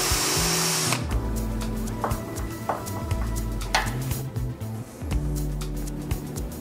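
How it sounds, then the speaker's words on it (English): A power drill whirs in short bursts as it pre-drills pilot holes for wood screws, fixing a tabletop to a metal K-leg set for an industrial sewing machine, with clicks and scrapes between runs. "just pre-drill some holes for the included wood screws to attach that top to your new leg set"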